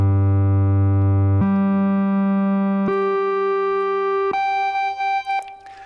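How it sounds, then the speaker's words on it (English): Analog synthesizer pulse (rectangle) wave, a steady reedy tone with strong odd harmonics, stepping up through four sustained pitches about every one and a half seconds, loud and alone. "the third wave would be a pulse wave, sometimes called rectangle"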